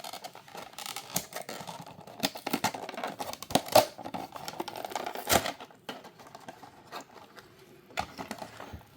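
A Majorette Porsche 911 GT3 Cup (992) toy car package being opened: close crinkling, tearing and sharp clicks of card and plastic in irregular bursts, with no talking.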